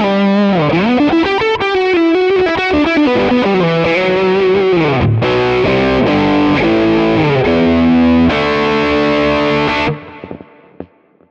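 Distorted electric guitar through a compressor in front of a TONEX amp capture on a Quad Cortex, playing a melodic line with chords, compressed and even in level, ringing to a stop near the end.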